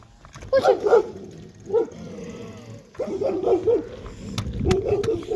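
Several dogs bark and yip in short bursts, fairly close, with whimpering in between and some faint voices in the background.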